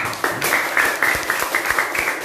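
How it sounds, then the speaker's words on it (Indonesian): Classroom applause for a student group, a short burst of many hands clapping at once, loud and close, steady throughout. "baik dulu tepuk tangan untuk kelompok 6"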